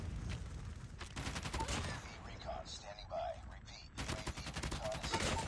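LK24 rifle gunfire in COD Mobile, fast repeated shots in dense bursts with a short pause in the middle, steady and close amid game noise.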